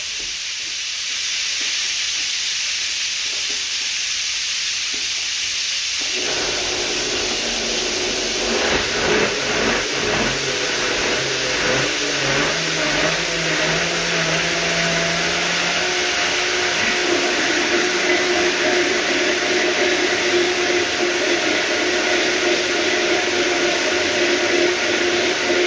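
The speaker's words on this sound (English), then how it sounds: "Now blitz it all up." Blender blitzing cooking ingredients under a lid, a steady loud motor whir that kicks in after a quieter start and churns continuously, with shifting tone as the contents break down.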